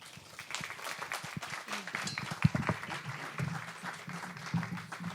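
Audience applause welcoming a speaker to a French talk on the PosturoQinergie method, steady moderate clapping throughout with a few sharper claps and a voice faintly heard beneath.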